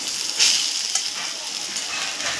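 Water added to potatoes and onions frying in a pan brings a sudden loud burst of sizzling that settles into a steady close hiss, with a light scrape of stirring partway through.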